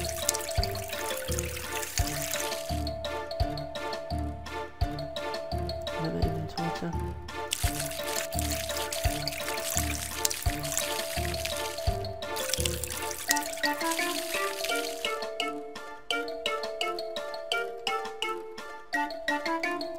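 Steady water pouring and trickling in the puzzle game Unfreeze Me 2, running continuously under loud, rhythmic background music.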